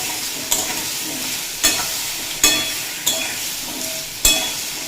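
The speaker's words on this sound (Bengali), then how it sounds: "আলু পেঁপে খুব ভালোভাবে ভেজে নিয়েছি।" Green papaya and potato fry with turmeric in a pan over low to medium flame: a close, continuous sizzle broken by regular spatula scrapes and stirs about once a second, with no voices.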